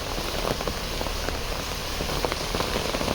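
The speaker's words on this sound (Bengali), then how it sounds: "অনেক বৃষ্টি আর অনেক বাতাস হচ্ছে" Steady, dense rain pours down without pause, a constant hiss with scattered heavier drops and gusty rushing underneath; no voices.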